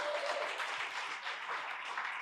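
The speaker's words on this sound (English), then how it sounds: "Round of applause for Quinn," An audience at a live talk gives a round of applause, a continuous rustling burst of many hands clapping at a modest level, rising and dipping slightly over its short length.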